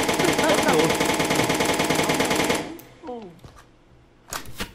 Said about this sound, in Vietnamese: nó bắn súng gì ta mà nó bắn đùng đùng đùng đùng hoài vậy